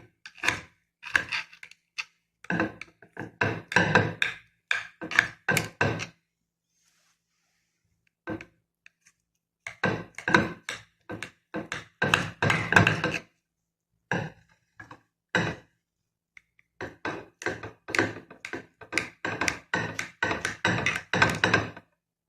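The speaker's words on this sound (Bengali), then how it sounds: "এখন আমরা এটা ছোট ছোট পিস করে কেটে নিব।" A knife chops fruit jelly into small pieces on a board, giving bursts of quick, close, knocking taps separated by short pauses.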